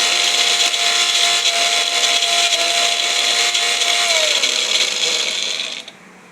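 A mixer grinder blends ripe mango pulp with a loud, steady, high whir that runs unbroken, then winds down and cuts off near the end.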